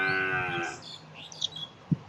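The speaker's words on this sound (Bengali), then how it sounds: "আর আমাদের গরুটা ডেকেই যাচ্ছে" A cow lows close by in one drawn-out, loud moo that fades after about a second, followed by faint bird chirps and a soft thump.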